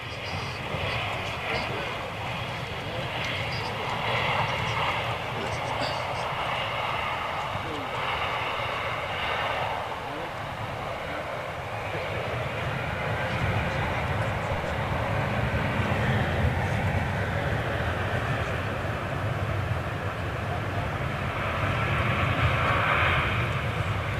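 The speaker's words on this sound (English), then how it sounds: "we call it spool up, where he increases the power of the engines" The engines of an Ilyushin IL-76 jet spool up as power increases, making a steady, distant broadband roar that builds slightly over time while people talk over it.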